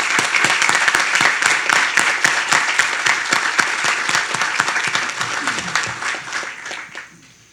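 Sustained audience applause at a ceremony, dense steady clapping near and loud throughout, tapering off at the very end.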